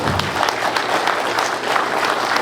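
A symposium audience gives a sustained round of applause, dense steady clapping filling the whole stretch at close, even loudness with no speech over it.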